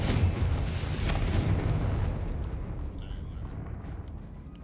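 The Confringo explosion spell goes off in the video game Hogwarts Legacy, a deep rumbling blast that slowly fades out over several seconds.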